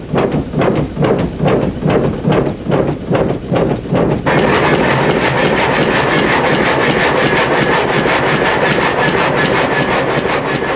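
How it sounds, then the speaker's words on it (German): An old water-powered sawmill saw cuts wood, first in rhythmic rasping strokes, then settling into a continuous loud grinding drone as it runs up to speed; no talk. "Er schaltet die Wasserzufuhr ein und regelt den Vorschub. Langsam läuft die Säge hoch."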